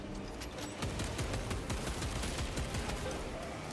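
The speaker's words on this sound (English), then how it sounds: "Frag grenade deployed." A frag grenade goes off amid a steady fusillade of rapid gunfire in a Warhammer battle game, sharp repeated shots crackling continuously at moderate loudness with no break.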